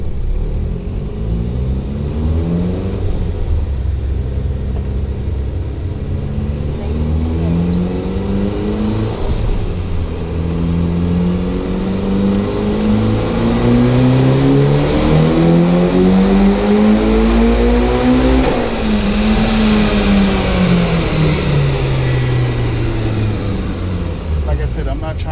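A turbocharged car on E85 fuel revs hard on a dyno, the engine note climbing repeatedly through the gears in long loud pulls, with a voice talking over parts of it.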